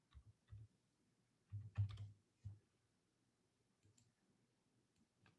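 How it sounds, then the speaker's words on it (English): Soft clicks of typing on a computer keyboard in short bursts, with a denser cluster of keystrokes partway through and scattered lighter taps after, quiet and close with no talk. "I'm typing"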